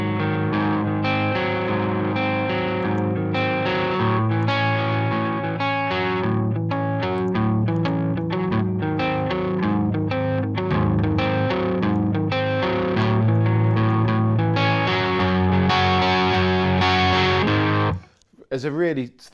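Distorted electric guitar plays a power chord riff in an uneven 7/8 rhythm, loud and steady throughout with effects coloring the tone, cutting off abruptly near the end.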